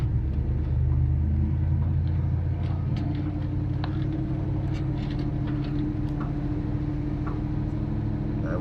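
An off-road vehicle grinds up a steep climb in 4-low first gear in Utah's Grand Staircase-Escalante backcountry, giving a steady, loud low engine drone and rumble that holds for the whole stretch without letting up.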